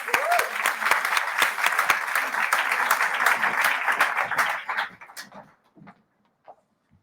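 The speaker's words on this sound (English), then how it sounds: "please help me do so by giving her a warm applause" A conference audience at a women's investing event bursts into loud, dense applause for about five seconds, then it thins to a few scattered claps and falls quiet.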